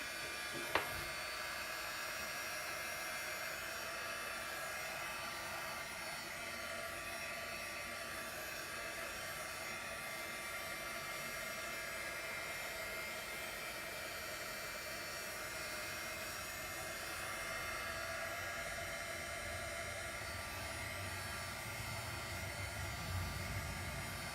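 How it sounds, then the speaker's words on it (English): A heating tool blows a steady, even whir to dry a Christmas craft project, running close and unbroken for the whole stretch after a brief click as it switches on. "Make sure the heating tool is going to work for me."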